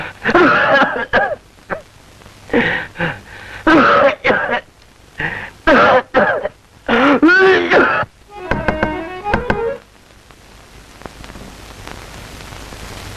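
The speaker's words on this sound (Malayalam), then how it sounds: "ഇപ്പോഴേ തുടങ്ങിയല്ലോ ചുമ" A man coughs repeatedly in harsh, broken bursts, a series of close, loud hacks and throat-clearing spells separated by short pauses, then fading into quiet background hiss.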